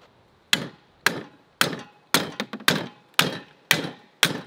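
A hatchet used as a hammer strikes an AK-47 in eight loud, close, evenly spaced metallic-wooden blows, each with a short decay, with a quick flurry of lighter taps in the middle.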